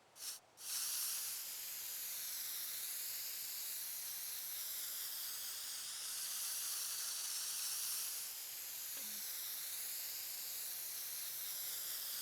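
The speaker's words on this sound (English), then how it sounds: "time to spray paint the car." Spray painting a car in the video game Teardown: a short spray burst, then a long, steady hiss of aerosol paint that continues unbroken at moderate loudness.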